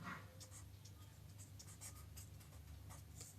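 Pen scratches across paper in rapid, soft strokes while numbers are jotted down for a percentage math problem, continuous and close but quiet.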